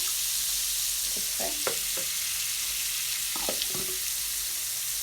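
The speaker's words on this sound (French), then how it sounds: "غندوز الاول الزيت مع الثوم هكا كما كتشوفوا معايا" Garlic fries in oil as the first step of a chicken and vegetable pastilla, giving a constant close sizzle with a few brief stirring clinks early and midway.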